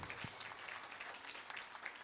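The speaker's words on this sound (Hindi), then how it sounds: "सबके लिए जोरदार तालियों से स्वागत किया जाए।" A crowd applauds the participants at a fancy dress competition in Bihari Colony, a steady wash of clapping at moderate level with no talk over it.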